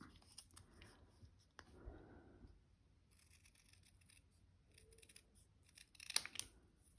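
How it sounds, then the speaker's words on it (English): Scissors snip a small trim off a piece of card stock during card making, giving a few quiet cuts and paper rustles against a soft, hushed background. "And just trim a little bit off there like that."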